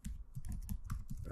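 Brisk typing on a computer keyboard, a quick run of close, distinct key clicks lasting just over a second.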